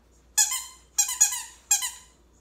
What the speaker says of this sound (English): and a squeaky bone